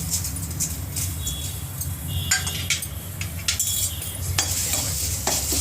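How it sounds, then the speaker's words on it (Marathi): Washed rice stirred and dry-roasted in a hot kadhai over low heat, giving a steady soft sizzle with scraping and clinking of a spoon against the metal, close and continuous throughout. "तर आता इथे मी कढई तापली आपली, तर आता मी हे तांदूळ आपले धुवून घेतलेत ना, ते मी इथे हे करते, थोडे भाजून घेते।"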